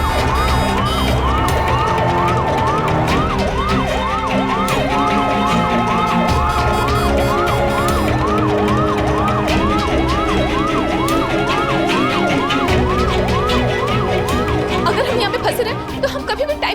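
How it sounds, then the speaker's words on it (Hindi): An ambulance siren wails continuously in steady rising and falling cycles, loud and close amid traffic rumble, with voices faintly present. "एमिली, इस वक्त हमसे ज्यादा उस एम्बुलेंस का यहाँ से निकलना जरूरी है, जिसमें कोई बीमार इलाज के लिए जा रहा होगा।"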